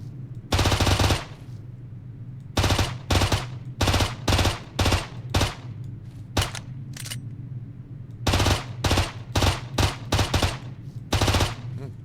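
Rapid bursts of gunfire in the video game Pigface, with a long opening volley and then quick repeated shots in clusters, loud and close.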